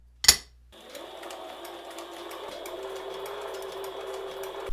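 A sewing machine steadily stitches leather for a duffle bag built from old cowboy tack, a close mechanical whirring with a fast regular rhythm, preceded by a brief sharp click or knock.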